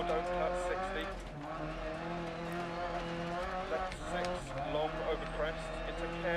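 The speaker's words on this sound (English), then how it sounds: "You can hear the banging around in the car a little bit." A rally car revs and drives in the DiRT Rally video game, its engine droning steadily with tire noise, bumps and skids, heard from the in-car view at a moderate level.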